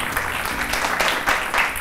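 A studio audience on a Malayalam television game show claps for two sisters, producing a short, dense burst of applause that stays steady throughout.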